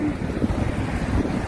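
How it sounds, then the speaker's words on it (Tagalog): Gusty wind blows steadily outdoors, close and rumbling like buffeting against a microphone, with no talk during the short burst. "It's windy"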